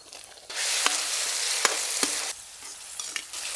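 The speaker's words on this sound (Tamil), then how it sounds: "எண்ணெய் இஞ்சி பூண்டு விழுது கட் பண்ண வெங்காயம் பொடியாக கட் பண்ண நாட்டு தக்காளி" Onion, tomato and ginger-garlic paste frying in hot oil, a loud steady sizzle that jumps in suddenly, with a few sharp stirring clicks and scrapes before the sizzle drops back to a quieter hiss.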